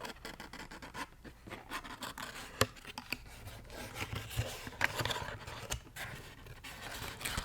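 Soft, cold, scented packaging is opened, heard as close, quiet, continuous crinkling, rustling and scratching with a few sharper crackles, and no talking.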